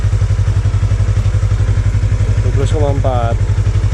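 Yamaha MT25 or R25 motorcycle engine idling close up, a steady rapid pulsing thrum with a regular beat, loud throughout, with someone briefly talking over it near the end.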